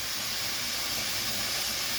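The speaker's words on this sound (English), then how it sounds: "So the steam is coming out now." Steam vents from a pressure canner processing sausage, making a steady, close, airy hiss that stays even throughout with no voices over it.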